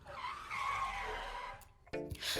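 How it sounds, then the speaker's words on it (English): A car speeds through a schoolyard with a long, loud tire squeal and rushing engine, then a sudden cut and a short closer engine burst. "a car dashing around the schoolyard at full speed"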